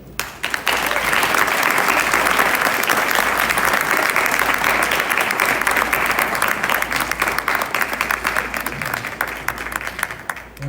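Sustained applause from a crowd honoring the president of a women's democracy foundation at a Haitian women's event, loud and steady throughout with dense clapping and no pause.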